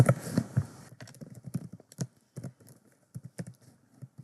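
Python code typed on a computer keyboard, with a rapid, uneven run of close, crisp keystrokes and brief pauses between bursts.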